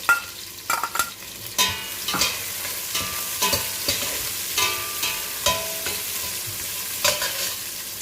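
Sliced onions fry with shahjeera for veg biryani, giving a continuous sizzle broken by repeated spoon scrapes and taps against the pot, close and with no talking.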